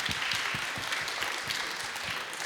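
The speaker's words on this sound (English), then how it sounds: "Can we give them a round of applause?" Audience applause for panelists at the close of a program at an open house, a steady wash of many hands clapping throughout, moderately loud and continuous with no talk.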